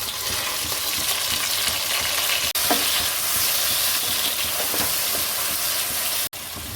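Tomatoes hit a hot frying pan for a paneer pulao and sizzle loudly and continuously while being stirred, with scraping strokes and a brief cut midway.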